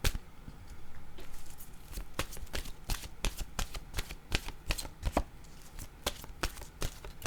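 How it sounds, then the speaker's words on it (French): Oracle cards shuffled by hand up close, a rapid series of crisp riffling slaps and flicks in an uneven rhythm, with no talk. "je vais demander une carte de mon oracle de l'âme intuitive pour lui"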